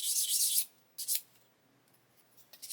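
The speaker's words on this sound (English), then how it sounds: "So we're just going to gently sand" A plastic model kit part for a WWI aircraft being gently sanded, two short bursts of bright, raspy scraping up close, separated by quiet pauses.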